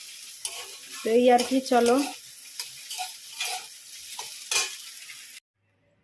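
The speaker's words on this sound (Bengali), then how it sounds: "আর এই যে এখানে মাংসটাও গরম হচ্ছে" Meat curry reheating in a pan sizzles and fries while a spoon stirs and clinks against the pan, with a voice speaking briefly over the cooking.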